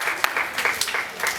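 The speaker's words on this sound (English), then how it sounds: "So clap it up for me." Brief applause from a youth audience at a Boys and Girls Club talk, a quick patter of clapping hands at moderate loudness with no voices over it.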